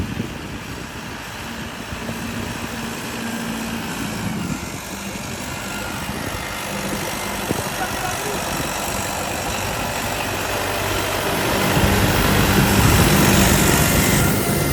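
A Turbo 595 tractor engine idles in a field, a steady drone at a constant, moderate level with a low rumble and no voices.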